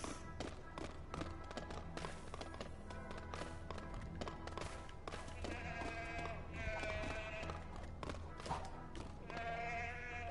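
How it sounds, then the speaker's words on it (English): A goat in a LEGO video game bleats in several short, wavering calls over constant game music and background sound. "My goat. Let's go, goat."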